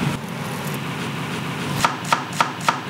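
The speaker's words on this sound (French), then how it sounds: "Il faut que tu les haches, mais grossièrement." A knife chops coriander stems on a board, four crisp evenly spaced strikes near the end after quieter handling sounds.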